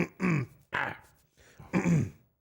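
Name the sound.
throat clearing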